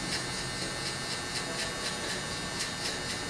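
An electric hair clipper buzzes steadily and close during a haircut, a continuous motor drone with faint rhythmic pulses as it works through the hair.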